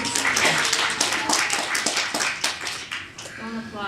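Scattered audience clapping breaks out at a city budget hearing, a patter of hands close by that mixes with a speaker's voice and thins out toward the end.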